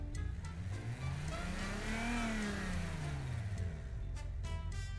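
A car engine in BeamNG, with a tone resembling an R32, revs up to a strained peak and sweeps back down, a steady, fairly close, trumpet-like whine with no talking.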